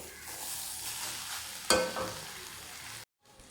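Raw banana slices cooking with garlic in a hot pan, giving a soft, even sizzle with one sharper crackle partway through, fairly quiet and close, ending in a brief silence.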